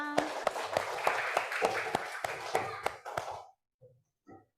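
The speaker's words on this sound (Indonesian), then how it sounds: "Tepuk tangan." A classroom group claps in a sharp, rhythmic pattern of about a dozen beats, close and fairly loud, with voices mixed in before it cuts off and a few faint sounds follow.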